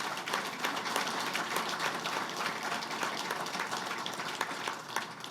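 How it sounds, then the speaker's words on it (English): Sustained, dense applause from an audience at a children's hospital ribbon cutting and groundbreaking ceremony. The clapping is steady and fairly close, with no lull across the whole stretch. "let's give him at least one more round of applause he can hear in Washington"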